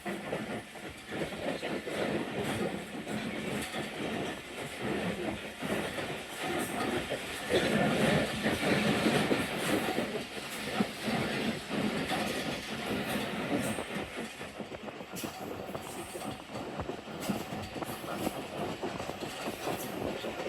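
Tezgam Express passenger train running on rails in Pakistan, a steady loud rumble and rattling of wheels and carriages throughout, with a hiss rising near the end and a faint voice mixed in.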